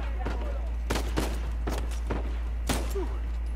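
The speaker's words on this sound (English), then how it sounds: "Oh, I'm getting shot from all directions." Gunfire in the Uncharted 4 video game comes as a series of separate sharp shots at irregular intervals over a steady low hum, with a faint voice briefly between the blasts.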